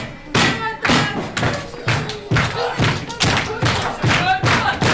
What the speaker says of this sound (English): Just stamping away at the face.